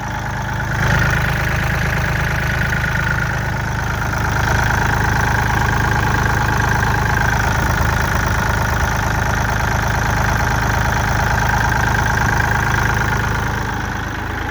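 A 2011 Kubota L3608 farm tractor's diesel engine idles steadily and close by, a continuous low chugging rumble with a faint knocking texture that holds unchanged throughout, with no voices over it.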